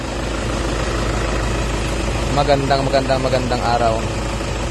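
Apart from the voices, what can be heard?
Toyota Wigo car engine running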